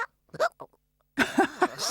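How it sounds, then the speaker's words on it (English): Cartoon mouse hiccuping after gulping bubbly lemonade: a short run of close, voiced hiccup yelps, several quick bursts spaced apart, some beside brief vocal sounds. "Cyril's got hiccups."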